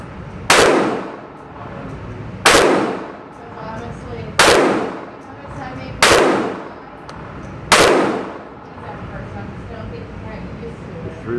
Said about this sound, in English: Three rounds suppressed.